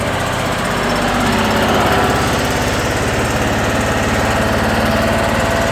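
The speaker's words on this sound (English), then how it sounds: "you hear the rack rattling, not the car." A 1959 BMW 600 Isetta limousine idles steadily with a loose rack rattling along, a continuous close buzzing chug with fast rhythmic pulses and no talk over it.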